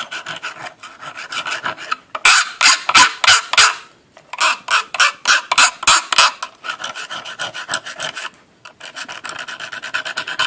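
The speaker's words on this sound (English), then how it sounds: "Now we need to file this." Hand file rasping back and forth on a metal DIY axle connector for a stepper motor and lead screw, in quick bursts of regular strokes with short pauses between runs, close and fairly loud.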